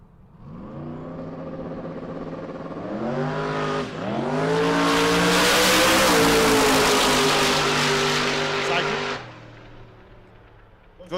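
Camaro race car accelerating hard down a drag strip, a loud engine roar climbing through gears with a brief shift dip, then cutting off sharply near the end.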